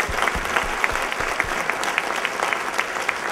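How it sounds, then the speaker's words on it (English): A conference audience applauds steadily, a broad wash of many hands clapping with a few sharper claps standing out and no talking on top. "Can we have another round of applause?"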